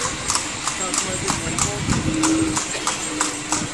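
Horse hooves of a carriage clip-clopping in a steady, evenly spaced rhythm close by, with people talking over them.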